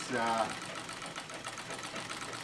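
A sewing machine quilting white denim with polyester embroidery thread runs in a steady mechanical whir, heard close under a person talking over it.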